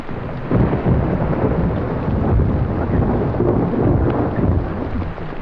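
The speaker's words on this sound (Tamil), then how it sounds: "ஏய், மழையில நனையாதடா" Heavy rain pours steadily in a dense, loud wash, with a deep rumble of thunder rolling underneath, continuous throughout with no voices.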